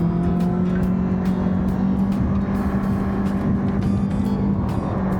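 Continuous engine hum and road roar from a car driving along an Austrian Alpine road, steady and close with no voices.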